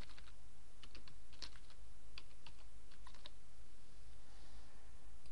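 A run of quick, light keyboard clicks, close and quiet, falls into short clusters over a constant low hum of room or computer noise while someone types a name into a box.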